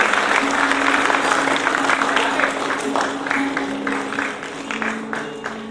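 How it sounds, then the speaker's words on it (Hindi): Loud, dense applause from a large audience at a convocation ceremony, sustained for several seconds and easing slightly toward the end, with a faint voice underneath. "जोरदार तालियां बजती रहनी चाहिए।"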